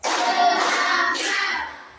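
A class of children claps hands together in a rhythm pattern led by a teacher, a dense burst of many claps that fills the space, then fades near the end.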